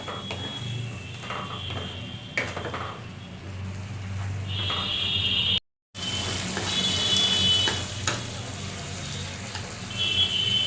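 Ginger and garlic paste frying in a pan in a home kitchen, a steady soft sizzle running throughout, broken by a brief gap and a few clinks of utensils.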